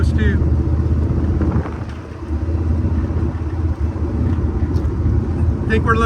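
A 1972 Ford Bronco engine on a road test after repair at a classic auto shop, a loud, continuous rumbling drive with brief dips, heard from the cabin.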